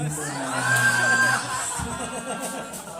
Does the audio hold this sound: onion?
no